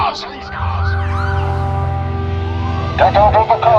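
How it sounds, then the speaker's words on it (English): Police car sirens wailing in a steady rising and falling tone, loud and close, with a voice breaking in over them toward the end. "Sober Doom was intercepted by a fleet of local police cars."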